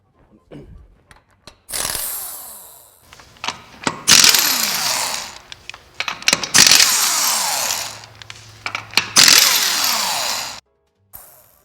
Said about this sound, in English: Let's go ahead and unbolt our wheels.